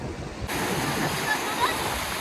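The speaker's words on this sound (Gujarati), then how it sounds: "નદી તો જઈ રહી છે સમુદ્રના જેમ" River water rushing past, a steady broadband roar of flowing water that starts abruptly after a brief quieter moment and continues unbroken, with faint voices in the background.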